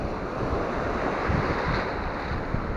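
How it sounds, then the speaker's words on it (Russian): Waves break and splash against beach rocks in a steady, loud wash of surf with wind rushing through it, close to the microphone and without any voices. "Разлетаются волны."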